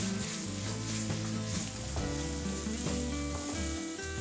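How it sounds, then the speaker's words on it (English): Onions fry over high heat in a pan for a quick Asian-style vegetable sauté, giving a dense, continuous, close-up sizzle with no voices. "I'm going to add some onions, just to build now flavor"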